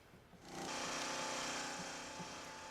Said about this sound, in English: crews in Socorro were busy today filling sandbags